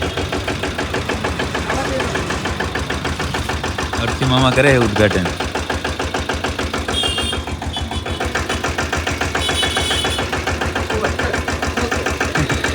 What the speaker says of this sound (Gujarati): ચાલુ થઈ ગયું ટ્રેક્ટર.